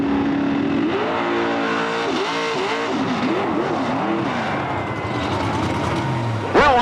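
A Camaro drag car from Michigan makes a wheelstanding run, its loud engine revving up and climbing through gears with rising and falling whines, then a sharp surge at the end.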